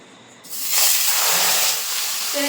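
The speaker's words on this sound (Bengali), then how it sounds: "প্রথমে কিন্তু মাছের তেলটা ভেজে নেব" Fish fat dropped into hot oil in a wok, a loud sudden burst of hissing sizzle that swells and holds steadily, close and alone.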